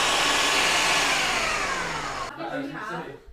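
A kitchen blender whirs loudly as it purees spinach, running for about two seconds before cutting off, after which faint voices and light handling sounds follow.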